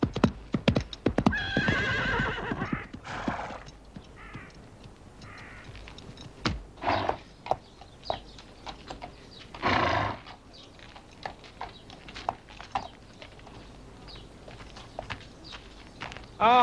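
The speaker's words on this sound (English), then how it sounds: "She's getting her horse ready." A horse neighs loudly near the start, followed by hooves clip-clopping at a walking pace, with scattered hoof beats and a few faint bird caws continuing behind.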